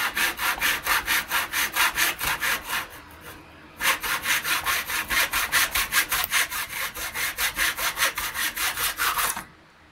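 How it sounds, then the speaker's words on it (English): A miter saw cuts through a piece of wood in close, rhythmic back-and-forth rasping strokes, with a brief pause near the middle before the strokes resume, and no talking. "then you can take the miter saw, line it up carefully with the mark,"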